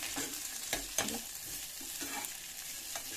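Sprouted hyacinth beans frying in a pan, a low steady sizzle broken by several distinct spatula scrapes and knocks as they are stirred, close and moderately quiet.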